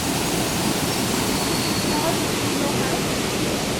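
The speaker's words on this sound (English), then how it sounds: "Water pouring out here, where it would have been diverted." Water pouring out where it was once diverted at an old mill, a steady, dense rushing roar like a small waterfall that stays loud and unbroken throughout.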